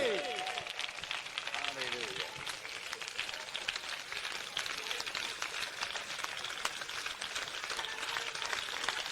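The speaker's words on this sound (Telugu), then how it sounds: "చప్పట్లు కొడుతూనే ఉండండి" A church congregation at a pastor's service claps continuously, a dense fast patter of many hands that carries on steadily at moderate loudness, with a preacher speaking over it.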